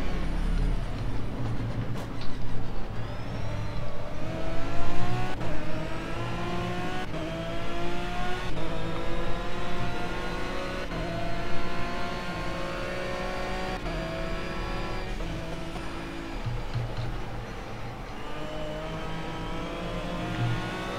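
Aston Martin GT3 race car engine in Project CARS at the Zhuhai circuit at night, a steady high-revving whine climbing through gears with brief lifts and shifts, loud and continuous.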